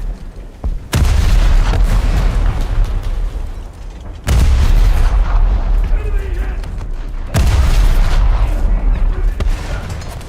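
A frigate's naval guns fire at a destroyer in a naval combat game, three loud booming salvos several seconds apart, each followed by a long rumbling roar.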